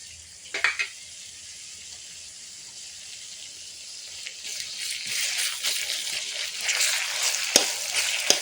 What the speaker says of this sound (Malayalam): സവാള ഒന്ന് വാടി വന്നിട്ട് ഇടയ്ക്ക് ഇഞ്ചി പച്ചമുളക് വെളുത്തുള്ളി ചതച്ചത് ചേർത്ത് കൊടുക്കാം.